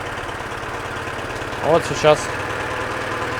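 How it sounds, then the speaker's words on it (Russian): A corroded, salt-worn Yamaha F9.9B outboard motor with a failed cooling system runs steadily at a low, even hum throughout, while a voice speaks briefly over it. "мотор перегревается, потому что не работает охлаждение"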